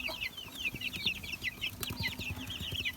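Several chickens cluck and chatter close by in a busy, overlapping flurry, with a faint background hum and no talking.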